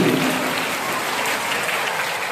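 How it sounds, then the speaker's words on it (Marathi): Continuous audience applause from students in a hall at a school's annual prize-distribution ceremony, a dense, steady wash of clapping held at an even level for the whole stretch with no pauses. "काय जोरदार काय बाबूंचा टाळ्याचा आवाजच येतोय."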